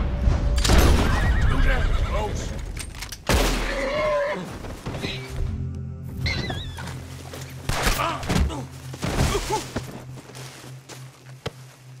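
Horses in the Red Dead Redemption 2 video game neigh and whinny loudly several times, mixed with hoof clops and thumps, while a voice speaks over parts of it.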